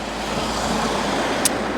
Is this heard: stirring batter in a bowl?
no